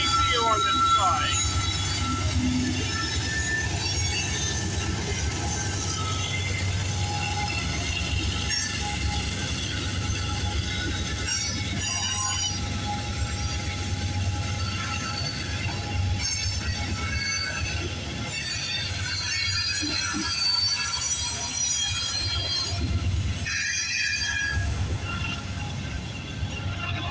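A CPKC freight train led by locomotive 8112, with a distributed power unit mid-train, rolls slowly past the Guelph Line level crossing in Campbellville, Ontario, a steady close rumble of cars and wheels with occasional squeal, while people talk over it.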